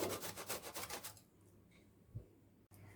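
Cabbage being shredded on a small hand grater for chutney: a quick run of about eight rhythmic, raspy scraping strokes, close and fairly loud, then a near-quiet pause with a faint knock.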